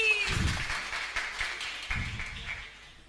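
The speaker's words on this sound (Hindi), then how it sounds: "ठोको ताली।" Theatre audience at a comedy stage play applauding, a broad wash of clapping that starts full and fades away, with a few voices audible.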